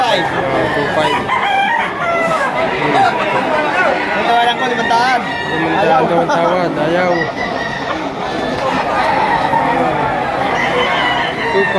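Roosters crow repeatedly at a busy outdoor poultry market in Lipa City, Batangas, their loud calls rising over constant crowd chatter and someone talking nearby.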